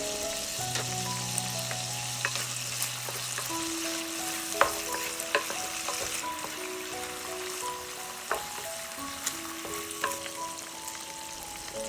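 Pork belly stir-frying in a wok with soy sauce, baijiu and oyster sauce for braised pork with tofu skin, giving a steady close sizzle with scattered scrapes and clinks of a spatula.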